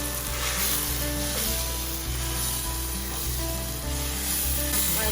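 Tinned chopped tomatoes sizzle in a pan with a steady, dense hiss that holds level throughout, loud and close, under a constant background hum, without any speech.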